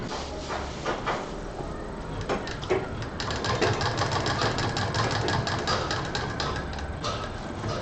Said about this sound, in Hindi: मशीन को कपड़े को धीरे धीरे घुमाना है और मशीन एकदम स्लो चलानी है पहली सिलाई में